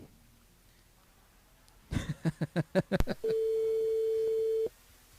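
A phone-in line on a French-language tropical night radio show on Kayanm FM sounds a quick run of dialing tones, then a steady beep that holds for about a second and a half before cutting off.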